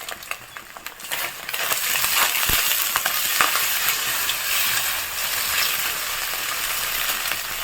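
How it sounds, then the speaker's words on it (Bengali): Scrambled eggs with a little salt fry in a hot pan, a steady bright sizzle running throughout with scattered scrapes and clicks of stirring, close up and fairly loud, with no voices. "তারপর ডিমের ঝুরি ভাজাটা হয়ে গেছে"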